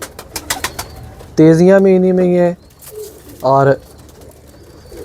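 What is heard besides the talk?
pigeons cooing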